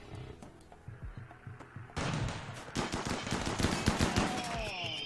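Turrets and colonists firing guns during a RimWorld fight: sparse muffled shots at first, then a sudden dense barrage of overlapping gunfire and impacts that keeps building, loud and continuous.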